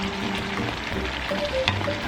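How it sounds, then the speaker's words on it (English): Beef simmers in a pan of bubbling sauce for crispy beef and broccoli, giving a soft, continuous sizzle and gentle popping close by, with no talk over it. "Now go in with your meat, and we're going to allow this to simmer for about a minute"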